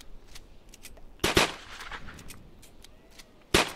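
Two sharp sniper shots ring out in a video game, one early and one near the end, each a loud crack with a short decay over faint background game noise.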